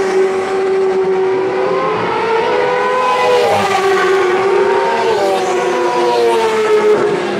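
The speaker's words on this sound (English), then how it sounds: "That's a rear wheel spinning." A racing motorcycle at the Loudon Classic bike week race, its engine wailing with rising and falling pitch as the rear wheel spins, loud and continuous with no talking.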